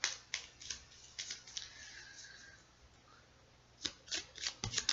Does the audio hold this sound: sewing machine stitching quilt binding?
no